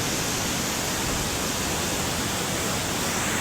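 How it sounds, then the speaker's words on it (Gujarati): Flood water rushing down the Saraswati river near a temple, a steady loud broadband roar that stays unbroken throughout with no voices. "આવા સમયે અત્યારે પૂર પહેલું વહેલું આવ્યું છે આ સરસ્વતી નદીમાં"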